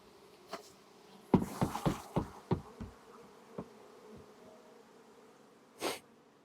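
A low honeybee drone from an observation hive hums under a series of sharp, close bursts and thumps, with a couple of brief noisy puffs near the end.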